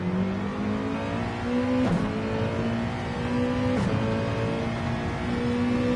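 Onboard engine of a Nissan touring race car in Gran Turismo 7 drones steadily at high revs, with two quick dips and rises as gears shift, loud and close with no talk.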